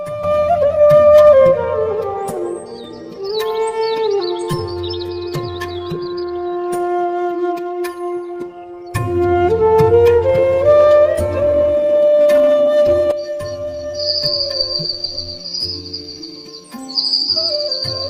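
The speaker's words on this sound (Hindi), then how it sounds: "पक्षियों की मधुर चहचहाहट सुनाई दे रही थी" Sweet birdsong in a village at morning, several chirps and warbling calls drifting over a steady layer of music, fairly clear and close, with a sustained high tone joining toward the end.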